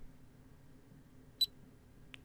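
Two short, high electronic beeps from a countdown timer built in Unity, sounding about three quarters of a second apart over a quiet low hum.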